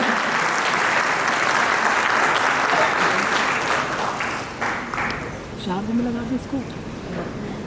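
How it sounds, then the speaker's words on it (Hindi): Loud, dense audience applause at FADA's 58th AGM in Raipur welcomes the Chhattisgarh Chief Minister to the dais. The clapping fills the room steadily, then thins and fades as a voice begins speaking near the end. "जोरदार तालियों से स्वागत हो जाए।"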